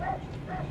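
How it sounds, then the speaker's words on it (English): A small dog gives quick yapping barks at a distance, two short calls that are faint and partly muffled. "That little dog is barking up a storm."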